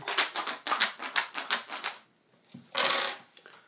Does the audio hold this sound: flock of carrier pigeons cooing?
no